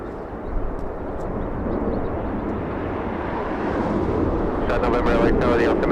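A jet airliner approaching to land at Los Angeles International Airport, a broad engine roar building steadily in loudness as it draws nearer, heard from a distance outdoors.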